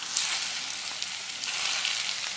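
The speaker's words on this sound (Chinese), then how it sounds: "然后咱们给上边淋点热油" Hot oil poured over coarse and fine chili flakes, minced garlic, white sesame, salt and cumin, crackling and sizzling loudly and steadily throughout, close up, with no talking.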